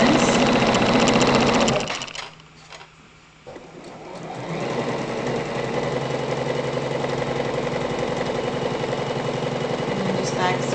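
Home sewing machine stitching a centered zipper seam, a steady close mechanical whir that stops briefly after two seconds, then resumes and runs continuously at an even pace to the end.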